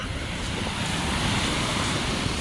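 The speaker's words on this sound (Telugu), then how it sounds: "అలలు చూడండి ఎంత బాగా వస్తున్నాయి" Continuous roar of ocean surf washing onto the shore at Salmiya Beach, Kuwait, broad and steady, with some wind rumble against the microphone.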